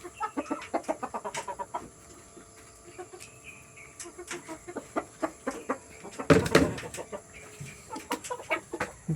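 Pet chickens cluck and peck in quick repeated bursts while feeding, with a louder flurry of flapping and squawking near the middle and steady clucks resuming after.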